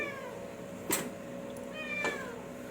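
A cat meows twice while being fed outdoors, short bright cries about a second apart, fairly close and clear over a low steady background hum.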